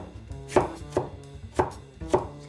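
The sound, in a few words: knife chopping yams into cubes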